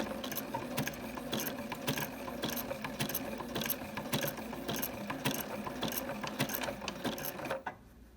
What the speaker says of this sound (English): now I need to backstitch to the beginning